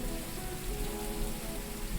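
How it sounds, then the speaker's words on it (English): Steady, dense rain in a fishing video game, a close, continuous hiss of drops pattering on surfaces, alone without voices. "the rain is the best part about this game"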